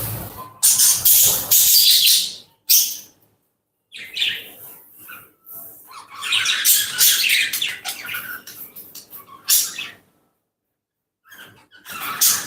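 Four baby birds in a nest inside a thorny bush chirp in dense, high bursts that come and go, loud and close, with short silent gaps between flurries.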